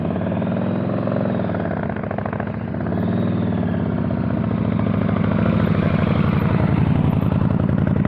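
A motorcycle engine putters steadily at low throttle during slow-speed riding practice, close and fairly loud, with a slight rise in revs partway through and no talking.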